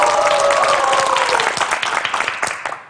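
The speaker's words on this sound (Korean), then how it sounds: "자, 박수 부탁드립니다." A studio audience on a Korean TV quiz show bursts into loud, dense applause that gradually thins into scattered individual claps before fading out.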